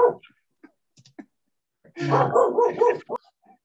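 A dog barks nearby in an indoor setting, a cluster of several quick barks in the middle, with a few faint yips and scattered noises before and after.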